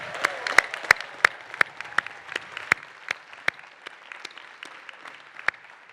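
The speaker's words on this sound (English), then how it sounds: "Let's have a round of applause for our guests." Audience applause for graduates' guests at the Stanford GSB 2021 commencement: steady moderate clapping with sharp individual claps standing out near the mic, holding for the whole stretch.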